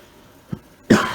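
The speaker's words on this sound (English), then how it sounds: "Excuse my cough" A single sharp, close cough bursts out near the end, preceded by a small muffled thump over a quiet background hum, with no talking.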